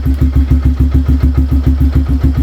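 Yamaha YTX 125 motorcycle engine idling steadily right after starting, with a close, even chugging putter at a regular rapid beat throughout, no voices.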